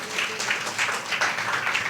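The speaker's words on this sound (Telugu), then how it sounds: "గట్టిగా చప్పట్లు కొట్టి దేవుని మహిమపరుస్తాం." A church congregation claps loudly and steadily in a dense, sustained burst of applause from many hands, with no talk over it.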